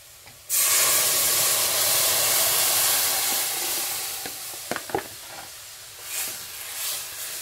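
A yogurt mixture poured into a hot pan of roasted masalas for Punjabi kadhi bursts into a loud, sudden hiss that holds steady for several seconds, with a few clinks and scrapes before the sizzle settles and eases.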